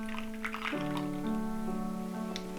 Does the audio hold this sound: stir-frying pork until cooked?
no